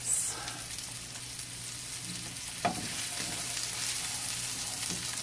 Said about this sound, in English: add the mushrooms and the shallots, and I'm going to cook them for about 2 to 3 minutes